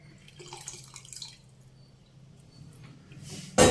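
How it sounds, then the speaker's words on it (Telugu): Water trickles and splashes softly into a pot of sambar, a light wet pouring with small drips, ending in a sudden loud burst of noise. "ఇందులో కొంచెం వాటర్ వేసుకొని"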